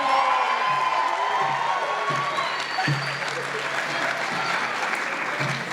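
Sustained applause and cheering from a standing crowd honor the first graduating class at the 2023 Young Women's STEAM Research and Preparatory Academy graduation, with scattered whoops and shouts throughout.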